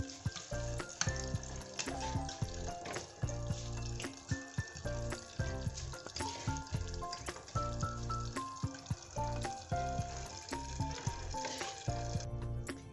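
Chicken makhni frying in hot desi ghee in a heated handi gives a steady, close sizzle with crackling spits and occasional clinks of utensils, and no one speaks.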